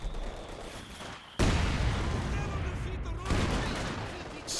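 Heavy mortar fire in Company of Heroes 2, a sudden loud blast at about 1.4 seconds rolling into sustained battlefield rumble, with a second swell of impact noise shortly after amid ongoing war-game clamor.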